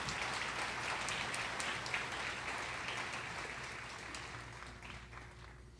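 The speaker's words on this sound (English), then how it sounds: "how about a big round of applause for our Small Business Development Center" Audience applause at a college State of the College event, a dense, steady wash of many hands clapping that holds for several seconds and tapers slightly toward the end.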